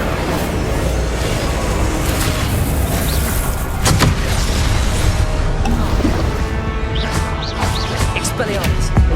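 Repeated fiery spell blasts and booming impacts from Hogwarts Legacy combat, dense and loud throughout, with sharp crackling bursts layered over a steady rumble of battle noise.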